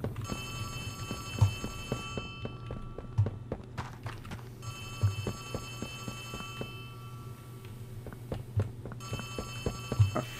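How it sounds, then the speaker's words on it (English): An old-fashioned telephone bell rings repeatedly in Poppy Playtime Chapter 3, with sharp bursts recurring throughout over a steady low hum and clattering background game sounds. "I hear a phone."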